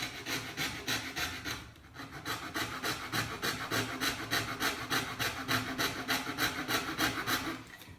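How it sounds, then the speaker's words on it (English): A coping saw cuts by hand through MDF base molding in even back-and-forth strokes, a regular rasping rhythm of about two strokes per second that holds close and steady with one brief pause. "you can use this coping saw. Just stay on that white line."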